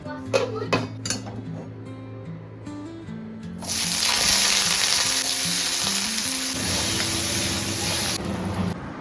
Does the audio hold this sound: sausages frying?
yes